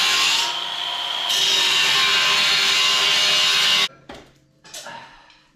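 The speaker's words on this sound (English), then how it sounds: "I'm gonna score this with a grinder." An angle grinder scores a steel plate for a Geo Tracker skid plate, giving a loud, steady, harsh cutting roar for about four seconds. It then cuts off abruptly, followed by a few quieter scrapes and clatters.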